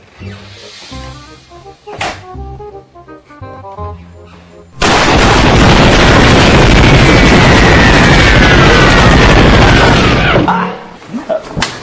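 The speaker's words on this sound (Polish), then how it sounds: "No, let's do massive explosion gunshots." A massive explosion sound effect blasts in suddenly and roars loudly for several seconds with dense crackling gunfire, played as a prank Windows logon sound, after some quieter talk and background sound at the start.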